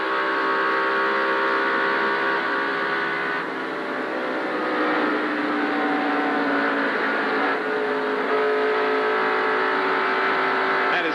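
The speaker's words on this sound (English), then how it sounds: "You can hear exactly when he is on and off the throttle." A race car engine at the 1988 Champion Spark Plug 400 roars at high revs, its pitch swelling and dropping as the throttle opens and closes, loud and continuous.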